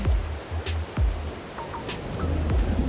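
Rain falls in the Farming Simulator 22 farming game as a broad steady hiss, with repeated low booming thuds and a few brief higher squeaks over it.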